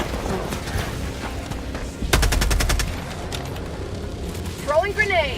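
Automatic machine gun fire in the Helldivers video game, a short rapid burst of about a second over ongoing battle noise and a player's voice, followed by further distant shots and a whooshing sweep.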